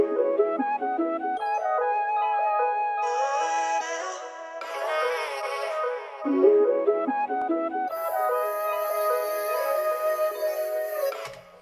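Looped vocal sample from the AJ Bashir kit sits in a hard trap-style beat, layered melodic voices shifting in texture and brightness over about twelve seconds, steady and loud with no talking.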